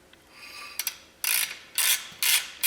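Ratchet clicks in short bursts while bolting Dana 44 front axle parts into place on a 1980 Chevy Silverado, a few light ticks then three louder separate ratcheting strokes, close and alone.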